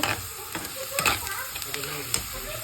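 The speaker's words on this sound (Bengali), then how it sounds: "এখানে টমেটো আর পেঁয়াজ ভাজি করে নিচ্ছি" Tomato and onion frying in a pan as the base for butter chicken, a crackling sizzle broken by repeated clinks and scrapes of stirring, with a faint voice in the background.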